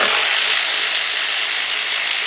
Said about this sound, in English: let's get my 10mm deep and get my cordless impact